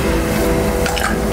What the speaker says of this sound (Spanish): Llena tu cráter de agua hasta la mitad.